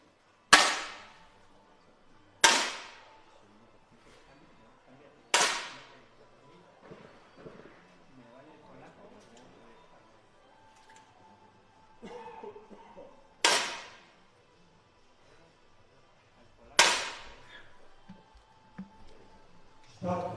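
Sharp single cracks of 10m air rifle shots ring out at a visually impaired mixed para shooting final, five or six spaced several seconds apart, each with a quick decay, while a commentator talks quietly between them.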